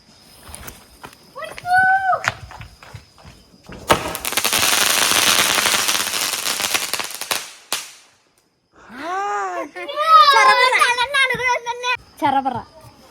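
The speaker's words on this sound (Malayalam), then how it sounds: "അപ്പൊ വിഷുവിന്റെ ആദ്യ വെടി നമുക്ക് പൊട്ടിക്കാം." Vishu firecrackers go off at home in a long crackling burst of rapid pops lasting several seconds, loud and close. Children's voices and talk come before and after the burst.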